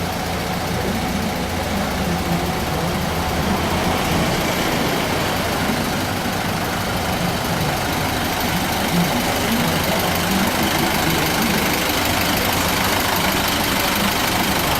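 A Malaysian ice delivery truck idles steadily beside a restaurant, its engine a constant low rumble and drone that stays close and continuous throughout, with no talk.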